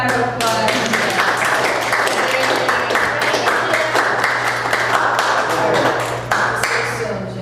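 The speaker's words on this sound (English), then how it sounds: "let's have a round of applause" Applause from an audience at a senior council on aging meeting, a steady spread of claps with a low hum running underneath, fairly close and continuing for several seconds.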